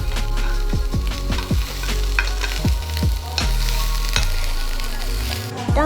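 Wheat rava roasting in a pan for payasam, a loud close dry sizzle with rhythmic scraping strokes of a spoon stirring the grains, repeated every half second or so.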